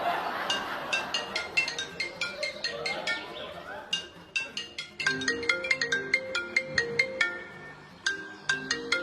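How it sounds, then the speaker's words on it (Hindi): A mobile phone rings with a bright, chiming melodic ringtone that plays as repeated tinkling note patterns, fairly loud and close, with some voices in the background. "तुम उठाओ, तुम्हारा फोन बज रहा है।"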